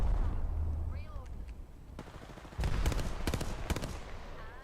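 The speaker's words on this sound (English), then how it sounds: "They're shooting at me." Gunfire crackles in a shooting video game, with scattered single shots and a few sharp bursts of rapid fire, some loud and close, over a background of ambient game noise.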